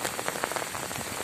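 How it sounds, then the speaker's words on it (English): Heavy rain pours down on a village street, a dense, steady hiss of drops hitting the ground with no voices over it. "Stronger and having stronger rain now."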